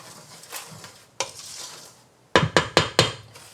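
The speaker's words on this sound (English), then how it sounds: "I'm going to give that a stir just to make sure my cocoa kind of gets distributed in my sugar" A spoon scrapes through cocoa and sugar in a pan, starting with soft shuffling strokes, then a sharp scrape, and ending in four quick, louder scraping strokes close by.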